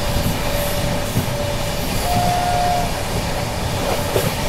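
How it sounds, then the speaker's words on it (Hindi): A Rajdhani Express runs flat out, its steady loud rumbling roar continuous throughout, with a thin tonal squeal from the wheels or carriage rising briefly in the middle. "अपनी राजधानी एक्सप्रेस भी फॉर्म में आ चुकी है, ताबड़तोड़ भाग रही है"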